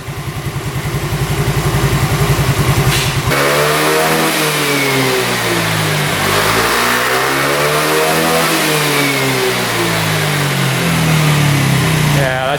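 A free scooter bought as a parts bike revs hard close up, the engine pitch sweeping up and down in repeated throttle blips over a loud steady drone.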